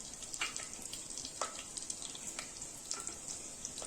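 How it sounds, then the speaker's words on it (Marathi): Ghee and chopped green chillies sizzle in a pan for veg biryani, a faint, steady hiss with small crackles and pops throughout, heard alone without talk. "आता आपण त्यात टाकणार आहे दोन स्पून साजूक तूप त्यानंतर त्यात कापलेली हिरवी मिरची"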